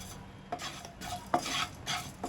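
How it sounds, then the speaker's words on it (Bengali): Whole coriander, cinnamon, cardamom and cloves are stirred in a dry kadai, giving a few faint scraping strokes with a light sizzle and no talking. "এবার শুকনো কড়ায় ভালো করে এটা নেড়ে নেব।"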